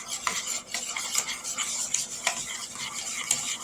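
Kinder's all-purpose seasoning is stirred into food in a bowl with a utensil, giving a steady run of close scraping and light clinking strokes without any talk.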